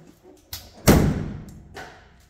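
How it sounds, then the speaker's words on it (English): Trunk lid of a 1957 Ford Fairlane convertible shut with a single solid thud after a couple of lighter knocks, close and alone with no talk, ringing briefly as it fades. "I'll shut the trunk."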